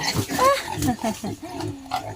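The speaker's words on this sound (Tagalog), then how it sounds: "naka-unli feeder tong tatlo ng baboy" Pigs at an unlimited automatic feeder grunt and oink close by in a short, busy burst, with a person talking over them.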